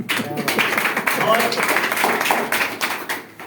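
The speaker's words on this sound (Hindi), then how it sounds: "बहुत बढ़िया, जोरदार तालियां।" An audience at a motivational talk applauds with a dense patter of hand claps that runs through the whole moment, mixed with a voice speaking.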